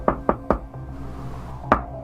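Knocking on a door played out at the table, three sharp raps in quick rhythm followed after a pause by one more, close and crisp.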